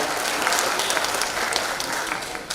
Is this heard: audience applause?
yes